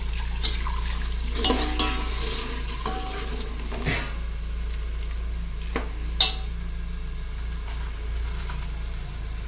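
A spice masala for toor dal simmers on high flame in a pan with a constant soft hiss over a low hum, broken by a few scattered utensil taps.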